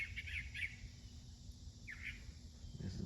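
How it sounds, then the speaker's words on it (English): A bird chirps in a backyard vegetable garden among okra plants, a few brief high calls scattered over steady low outdoor background noise, faint and somewhat distant, no talking. "this is beautiful bird chirping just behind me"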